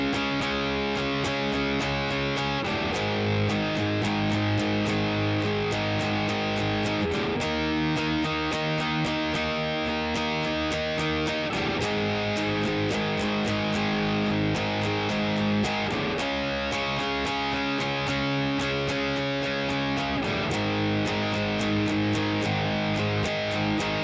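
Loud distorted electric guitar power chords drive the chorus of a song, strummed in a fast steady rhythm with open strings ringing, continuous and unaccompanied by voices.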